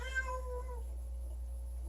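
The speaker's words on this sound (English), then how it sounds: "Sorry about the noise. My cat's incredibly annoying" A house cat lets out a single drawn-out meow, close and clear, tapering off after under a second into a quiet room with a steady low hum.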